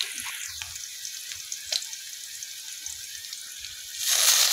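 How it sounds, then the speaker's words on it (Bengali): Bathua greens fry with onion and chillies in oil in a wok, a steady moderate sizzle with light stirring taps, swelling louder near the end as more goes into the pan; no speech. "তো আর পেঁয়াজ মরিচ ভাজা হয়ে গিয়ে এখন আয় শাক ইন্দি ফেলাই।"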